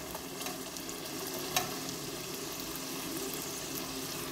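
Samosa patties frying in hot oil, a steady close sizzle throughout with a single brief scrape or clink as they are flipped, no talking.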